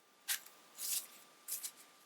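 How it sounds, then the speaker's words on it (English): Quiet, brisk bursts of Spellquest hazard cards being riffled and shuffled, three short flurries separated by brief pauses, close and soft. "Give them a good shuffle."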